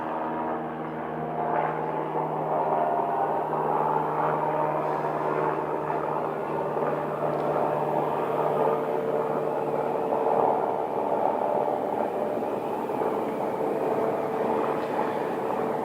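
A Piper Pilot 100 light aircraft at Scottsdale gives a steady, moderately loud engine drone that holds for the whole stretch, with a low hum and no clear rise or fade.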